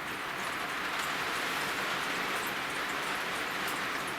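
Heavy rain pours steadily over a tiny house, a dense, even hiss without pauses that stays at a constant moderate level throughout, with no talking.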